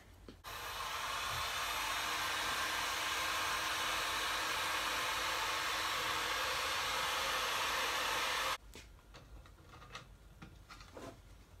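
A hot-air gun roars steadily for about eight seconds while heating plastic to mould and bond it, then cuts off abruptly, leaving faint taps and handling noises.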